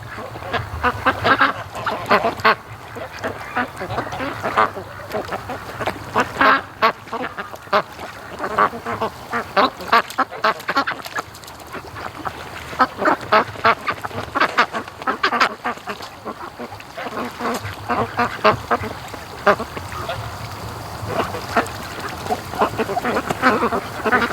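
Free-range ducks on a lake give a steady, dense chorus of quacking, many birds calling over one another in overlapping bursts that stay close and loud throughout.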